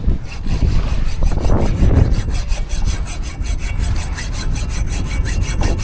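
A hand saw cutting through wood in steady back-and-forth strokes, loud and close, the rasping rhythm quickening toward the end.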